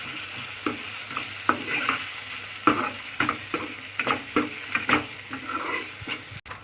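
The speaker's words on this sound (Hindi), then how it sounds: "आधा चम्मच हल्दी पाउडर, थोड़ी सी मिर्च, इसको हम अच्छे से मिक्स कर लेंगे" Turmeric powder and chili being stirred into masala frying in a pan for baingan bharta, with a rhythmic series of scraping spoon strokes over a constant sizzle, close and fairly loud.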